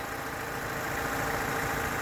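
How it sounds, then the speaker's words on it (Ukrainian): A 2005 Daewoo Lanos with a 1.5 engine running on gas and petrol idles steadily and close by, an even, continuous mechanical hum and whir without revving. "Дивіться, як працює двигун"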